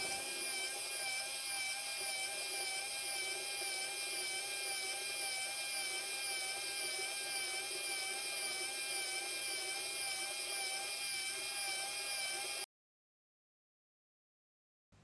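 A small Nezha kit motor drives a gearbox in high gear, controlled by a micro:bit. It gives a steady, even whine for about twelve seconds before cutting off abruptly into silence.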